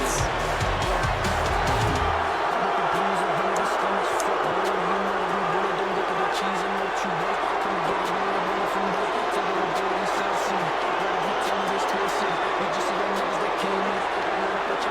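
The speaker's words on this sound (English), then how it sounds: "Listen to the crowd. They are unhappy, Josh." A large, unhappy wrestling crowd roars and murmurs continuously after a tag team title match, a dense, loud wall of noise, restless and unsettled throughout.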